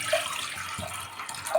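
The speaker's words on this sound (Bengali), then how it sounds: "এরপরে তো আমি জল দিয়ে দেব" Water is poured into a pressure cooker set on a lit gas stove, ready for boiling new potatoes. A soft, steady splashing rush runs briefly with no voices.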